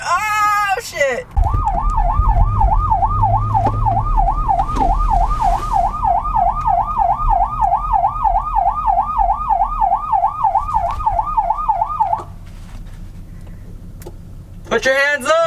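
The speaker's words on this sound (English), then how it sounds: "Got the sirens up." A police car siren wails in a steady, rapid up-and-down cycle for over ten seconds, loud and close over traffic rumble, with brief voices or other siren bursts at the start and end.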